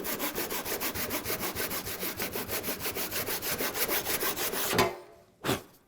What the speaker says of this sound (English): So I'm going to clamp this down, and then I'm going to saw this wall